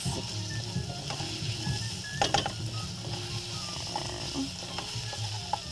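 Garlic and onions sizzle steadily in a hot pan, with close scraping and tapping from a utensil stirring them. No one speaks.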